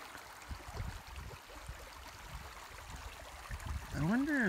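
Creek flowing through Plumas forest, a faint, close trickle and gurgle of water running steadily, with a brief swooping tone near the end.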